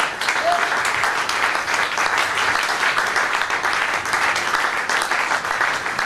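A church congregation claps and cheers for Jesus in a dense, sustained wash of applause that holds steady throughout, loud and close.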